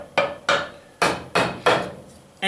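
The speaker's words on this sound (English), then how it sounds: "the only way to remove this was with tapping it with a mallet a little bit" Parts of a bench vise being tapped with a mallet: six sharp, loud knocks at a slow, uneven pace, each ringing briefly before fading, with no talking.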